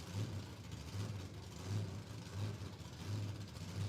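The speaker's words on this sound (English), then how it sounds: "Now this is I think a cranky LS, supercharged LS in this Camaro." Supercharged LS V8 in a Camaro at a motorsport jamboree, rumbling from a distance with a lumpy, uneven idle and rhythmic throbbing pulses, faint against the open-air background.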